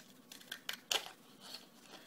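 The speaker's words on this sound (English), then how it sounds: "I'm just lining up the top part of the scissors along the line just so I can make it straight." Scissors snip along a drawn line in a few soft, separate cuts, quiet and close, with faint room noise between them.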